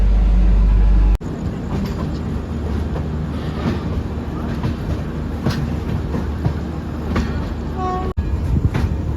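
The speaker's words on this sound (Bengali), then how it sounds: "ট্রেন এখন ব্যান্ডেল জংশন ছেড়ে তার পরবর্তী যে স্টেশন রয়েছে নবদ্বীপ ধামের দিকে এগোচ্ছে" The Garib Rath Express rumbles along steadily after leaving Bandel Junction, a continuous near, loud rolling noise with faint clattering from the carriage and occasional brief clicks.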